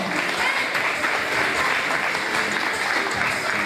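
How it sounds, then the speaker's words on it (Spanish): Steady, dense audience applause fills a solidarity benefit evening for a singer, loud and continuous throughout with no voices over it. "fuerte el aplauso"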